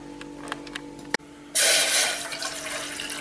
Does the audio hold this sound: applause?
no